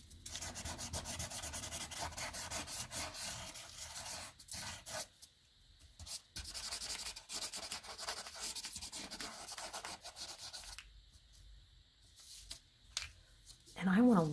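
Colored pencils rubbing and scratching across paper in a close, continuous rough texture, with short pauses as the strokes stop and restart.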